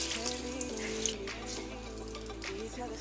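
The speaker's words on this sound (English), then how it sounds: "Squeeze out the excess water" Excess water is squeezed from a wet makeup sponge over a running sink, a steady close splashing and trickling rush of water with no speech.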